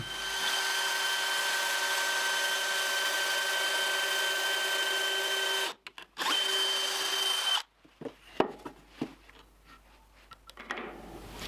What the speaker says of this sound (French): J'enclenche le clou comme c'était une mèche. Et je fais mon pré-trou.